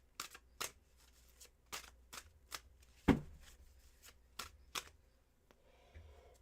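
Tarot cards shuffled by hand in a steady run of crisp riffles and taps, with one sharper, louder slap midway; close and clear, with no voices.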